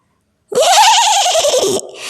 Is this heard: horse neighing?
yes